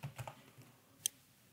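A password is typed on a Mac keyboard: a few soft, quick keystrokes at the start, then a sharper single key click, close and quiet, with no one talking.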